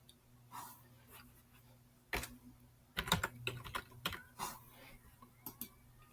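Irregular keystrokes on a computer keyboard, quiet and close, come as scattered taps and then a quicker burst of clicks with short pauses, and no one speaks.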